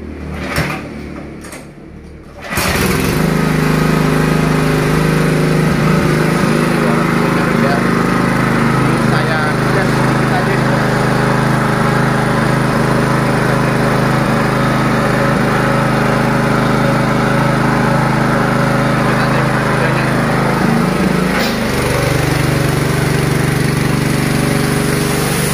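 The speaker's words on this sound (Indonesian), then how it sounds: "Ini coba tak nyalakan, barangkali mungkin agak bermasalah dengan pompa" A 180 bar plunger pump car washer starts after a brief pause and runs steadily, a loud continuous motor and pump drone with a slight shift near the end, with some talk nearby.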